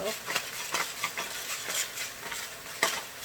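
Onions frying in a pan for egg roll in a bowl, a soft steady sizzle broken by repeated light stirring taps and scrapes of a utensil against the pan.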